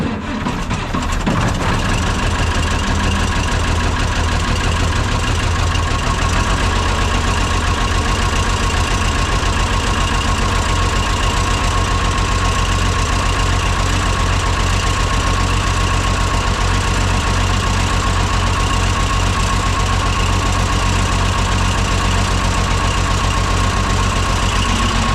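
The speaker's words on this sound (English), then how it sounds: "I like the old Perkins. Starts so good, it's been sitting for 2 years." An old Perkins diesel engine on a Cockshutt 1850 tractor, sitting unused for two years, fires up and settles into a loud, steady idle with a rough knocking rumble that carries on unbroken, close by.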